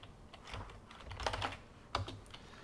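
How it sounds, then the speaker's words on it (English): Someone types a command on a computer keyboard, a quick run of soft, close key taps with a couple of firmer strokes near the end. "I can execute this by typing sudo"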